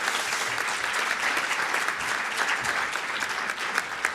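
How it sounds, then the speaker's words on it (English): Dense, steady audience applause for award winners at a nuclear energy forum's main stage, a continuous wash of many hands clapping together for several seconds without speech. "Please, a round of applause."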